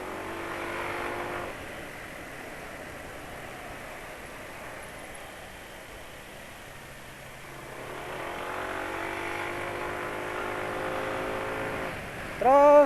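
A motorcycle engine running on Unioil motor oil, idling with a steady hum before rising into sustained revs, easing back down, then revving up again near the end, recorded close with no talking.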